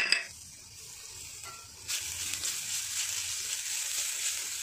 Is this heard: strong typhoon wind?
no